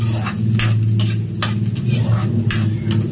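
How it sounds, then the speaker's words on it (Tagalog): Garlic sizzles steadily in hot oil in a pan, stirred with a utensil that scrapes and clinks now and then, loud and close, during preparation of pinakbet. "ilagay na po natin ang ating bawang. Halo-haloin lang hanggang sa ma-brown"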